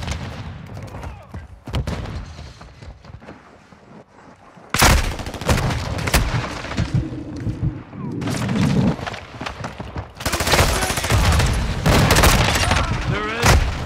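Gunfire in Modern Warfare 2, loud bursts of rapid automatic fire and booming shots in several clusters with short gaps, heavy and close, with occasional voices among the shooting.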